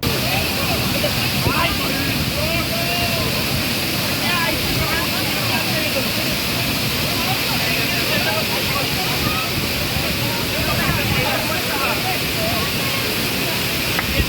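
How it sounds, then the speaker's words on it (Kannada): Golari waterfall near Karwar plunging more than 40 feet amid green forest and mist, a steady, dense rushing roar that holds unbroken throughout, with a faint tonal layer woven under the noise. "ಸುಮಾರು 40 ಅಡಿಗೂ ಅಧಿಕ ಎತ್ತರದಿಂದ ಧುಮ್ಮಿಕ್ಕುವ ಜಲಧಾರೆ"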